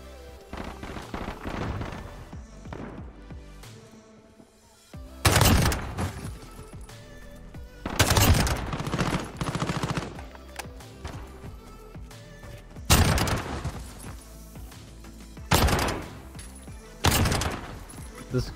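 Gunfire in a shooter video game comes in about five sharp, loud bursts of rapid shots, separated by quieter stretches of game ambience.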